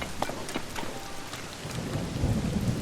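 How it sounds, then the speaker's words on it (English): Steady rainfall with rumbling thunder and occasional cracks in the video game Zelda: Tears of the Kingdom, a dense continuous storm wash that grows heavier and deeper toward the end. "This rain is dangerous."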